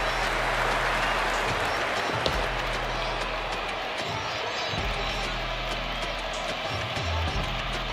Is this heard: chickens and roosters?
no